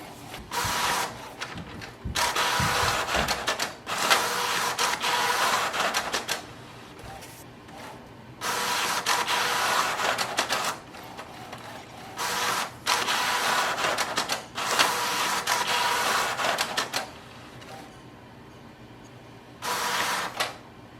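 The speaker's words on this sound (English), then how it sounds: "this might take 1 or 2 minutes because automatically it will do the alignment process" A Canon Maxify GX6021 inkjet printer runs print head alignment, with repeated bursts of whirring carriage and feed mechanism separated by short quiet pauses, close and moderately loud with no talking.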